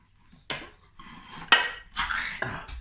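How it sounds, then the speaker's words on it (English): A tin of Aldi stewed steak is opened with a few sharp metallic clicks and scrapes, separate close-up knocks and pulls spaced apart with quiet gaps between them. "So I'm going to get the classic stewed steak open now from Aldi."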